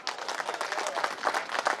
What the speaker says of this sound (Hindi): तालियां यहां बजानी होती